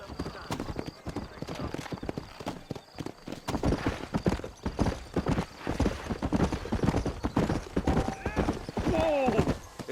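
Horse hooves clip-clop steadily as a rider sets off through town in the Red Dead Redemption video game. A horse whinnies, and voices talk over the rhythmic hoofbeats.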